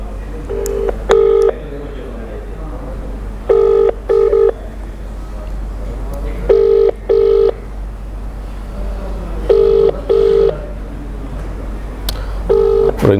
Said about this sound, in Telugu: నేను లైవ్లోనే ఒకసారి కాల్ చేస్తాను.